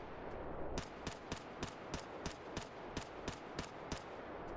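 PP-2000 submachine gun firing in STALKER GAMMA, a run of about eleven sharp, evenly spaced single shots at a steady rhythm, loud and close, with a faint ambient hum between them.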